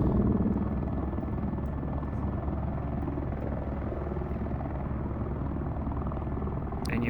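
A helicopter carrying cut bundles in a video game simulator drones steadily with a constant rotor thrum and engine whine, loud and unbroken throughout, with no speech.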